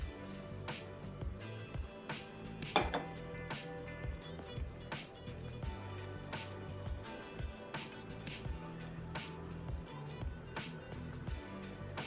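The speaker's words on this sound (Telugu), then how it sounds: "ఇప్పుడు మనం కట్ చేసి పెట్టుకున్న పాలకూర అనేది అందులో వేసేసుకుందాం" Chopped spinach goes into a tomato chicken curry cooking in a pan, giving a steady crackling sizzle with scattered pops and one sharp clatter, and nobody speaks.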